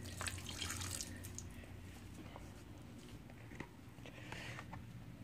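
Water from a filter cleaning and aquarium water change splashes and trickles in a steady, close stream, with a louder gush at the start and small drips and bumps throughout.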